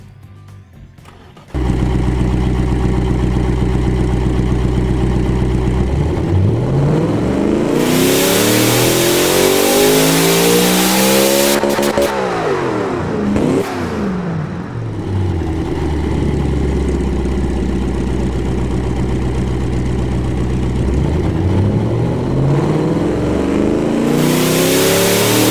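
Simulated LS V8 engine in the Automation car tycoon game, idling loudly and then revving up through long sweeping climbs and drops, with no talking.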